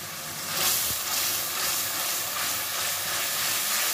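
Masala spices with yogurt frying in a hot pan, a loud, dense hiss of sizzling that swells early and then holds steady and close, with no speech.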